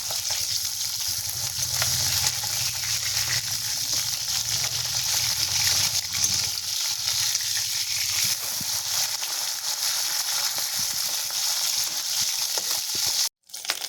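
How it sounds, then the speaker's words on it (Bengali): Pabda fish fries in hot oil for a mustard curry as the pieces are flipped and moved around, producing a steady, close sizzle with crackles and soft scraping thuds that cuts out abruptly near the end. "মাছগুলো এখন উল্টে পাল্টে ভেজে নেব ভালো করে।"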